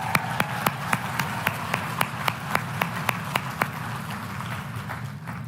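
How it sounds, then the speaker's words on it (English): A crowd at a Moms for Liberty national summit claps for an introduced speaker, with crisp, steady rhythmic claps close by over a murmuring room, fading near the end. "let's clap for Vivek"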